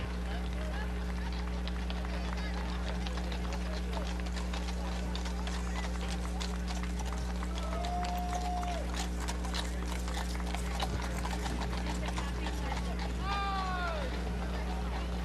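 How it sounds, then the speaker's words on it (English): Cleveland Police mounted unit horses clop along at a parade for a presidential inauguration, steady hoofbeats under a public-address announcer's voice, with brief whistle-like tones in the background. "those beautiful horses are from the Cleveland Police Mounted Units from Cleveland, Ohio"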